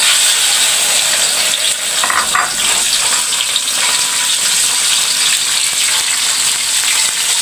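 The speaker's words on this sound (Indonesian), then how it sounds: "Sekarang kita mau goreng belutnya dulu, mau kita masak." Eel sizzles and fries loudly in a hot pan, a dense, continuous crackle that stays close and steady throughout, with no one talking.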